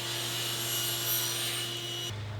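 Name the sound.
table saw cutting angles on ends of wooden stool rails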